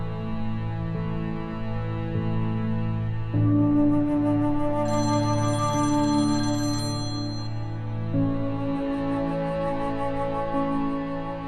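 A phone rings on and off without being answered, a steady electronic ringtone melody repeating at moderate loudness with no talk.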